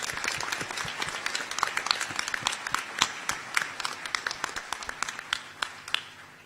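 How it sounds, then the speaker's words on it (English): Graduation audience at a Monash Malaysia ceremony applauding, steady clapping from a large hall with sharper individual claps standing out, gradually easing toward the end. "I now ask members of the audience to applaud your accomplishments."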